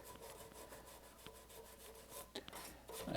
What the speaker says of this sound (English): I'm going to take a toothbrush and some alcohol and let's just see if this stuff comes away